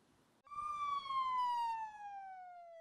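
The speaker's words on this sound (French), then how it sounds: "Ces ambulances évacuent en urgence des patients de l'hôpital d'Alexandroupolis, menacés par les flammes en Grèce." An ambulance siren sounds during an emergency patient evacuation from a hospital in Alexandroupolis, Greece, threatened by wildfire: a loud, steady wailing tone that starts abruptly and slowly falls in pitch, with no talk.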